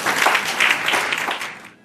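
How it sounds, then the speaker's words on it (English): Audience applause at an interfaith Thanksgiving event, a brief burst of steady clapping from a seated crowd that fades out toward the end, with no talking over it. "Another round of applause for Rabia."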